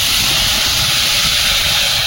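Water poured into a hot pan where mango pieces were frying in oil with salt and turmeric, giving a loud, steady sizzling hiss that fills about two seconds before cutting off abruptly, with no voices.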